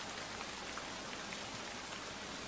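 Steady, dense rain pours over a forest area at night, a continuous even hiss of drops on surfaces with no breaks, moderately loud and heard alone without any voices.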